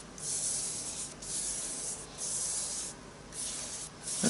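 A paintbrush strokes gesso across paper in close, soft scratchy sweeps, about four rhythmic passes with short gaps between them.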